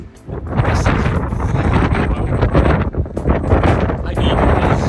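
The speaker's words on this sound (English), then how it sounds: "as soon as you get to the end, it is windy as hell" Strong wind on the Pembrokeshire coast of Wales buffeting the microphone in loud, roaring gusts that barely let up.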